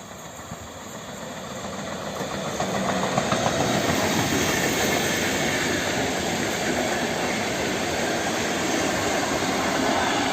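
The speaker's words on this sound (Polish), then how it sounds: "EU44005 w tej swojej obklejce." An EU44 Husar electric locomotive, EU44005 in a special wrap, approaches near Warszawa Zachodnia, its rolling rumble growing louder and then holding steady with faint rail clatter, and no talking is heard.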